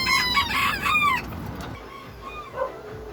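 Bantam chickens squabbling, with a burst of loud, close clucking and squawking up front that gives way to quieter, scattered clucks and a brief call.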